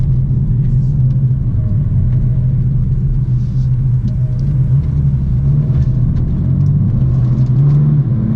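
A BMW M4 F82 engine pulls away gently in Sport Plus mode, a steady low rumble heard from inside the car with no talk over it.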